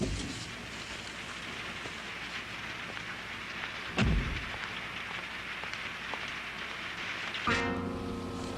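Steady rain falls at night, a dense continuous wash with a couple of brief louder knocks or rumbles partway through and near the end.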